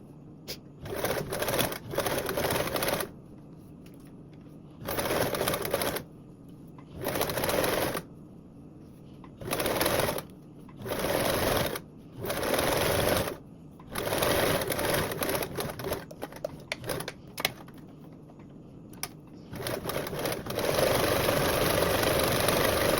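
A sewing machine top stitching a strap for a blanket backpack, working in repeated bursts of rapid mechanical whirring separated by short pauses, close and clear.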